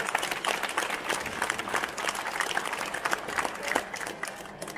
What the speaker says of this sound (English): Big hand of applause for them as well.